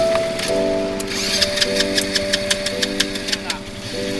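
An ATV engine on the beach at Air Manis, Padang, West Sumatra, runs at a steady mid-pitched idle before revving up into a rapid, rhythmic pulsing drone, fairly close by, with no voices over it.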